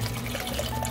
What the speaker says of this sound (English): And add on the new spring water